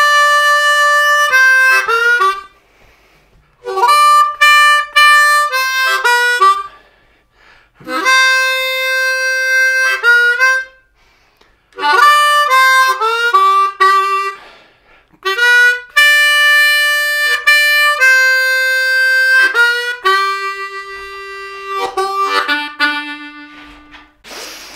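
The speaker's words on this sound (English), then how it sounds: "I teach them some simple 12-bar blues examples that get them thinking about the chord" Harmonica playing simple 12-bar blues phrases, bright reedy notes in bursts and bends with short pauses between lines, steady and up close throughout, no speech.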